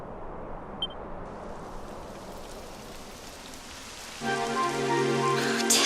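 Rain patters steadily in the video game Dragon Quest XI, a soft continuous hiss, then a tonal music-like layer swells in over it near the end.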